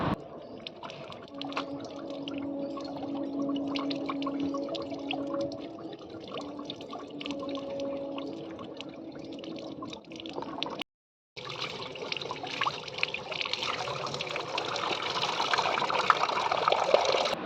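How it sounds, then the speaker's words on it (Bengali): Ash gourd (pumpkin) leaves are washed in water, a continuous soft splashing and trickling with a steady tonal hum beneath, broken by a brief silence before louder running, swishing water. "আর পাতাগুলোকে আমি খুব ভালোভাবে ধুয়ে নিলাম"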